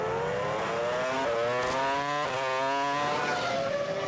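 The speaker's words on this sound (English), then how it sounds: "Juan Pablo gets the green light to go and charges after the Renault" A 2005 Formula 1 car, Juan Pablo Montoya's, accelerating hard away from a pit stop, its engine note climbing through rising gear steps with a sharp upshift, loud and close with no talk over it.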